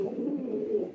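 Pigeons in a home loft coo softly and continuously nearby, a low rolling murmur with no other sounds over it.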